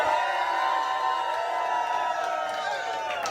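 A JSConf US conference audience cheers a loud hello, a continuous mass of whoops, shouts and clapping holding steady for a few seconds.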